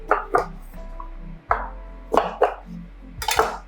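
A knife chops an onion and a pepper on a board while making layered nachos, giving a handful of close, irregular chopping knocks with brief pauses between them.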